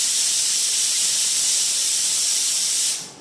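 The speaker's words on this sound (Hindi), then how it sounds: "बड़ी अच्छी लगती है भाप। मैंने राजमा उबलने के लिए रखे हैं" Steam hissing loudly and steadily from a pot of boiling rajma (kidney beans) in a home kitchen, a broad close rush that cuts off abruptly near the end.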